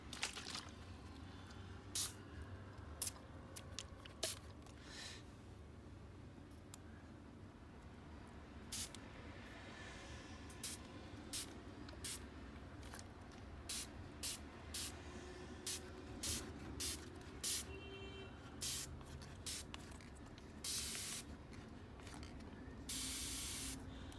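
A spray bottle mists water onto houseplants, a podocarpus nagi and a blueberry seedling, in sharp, close hissing bursts: scattered single pumps at first, then quicker runs of sprays, with no talk.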